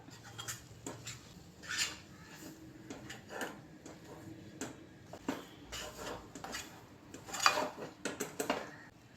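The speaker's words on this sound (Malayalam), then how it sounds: "എന്നിട്ട് നല്ലവണ്ണം ഇളക്കുക" Wheat flour, salt and cardamom powder are stirred in a bowl, giving faint, irregular scrapes and light clinks of a utensil against the bowl close by.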